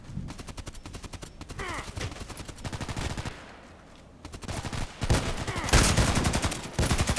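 Close automatic gunfire in the Contract Wars shooter, repeated bursts of rapid shots with a short quiet gap before louder firing returns, with faint talk underneath.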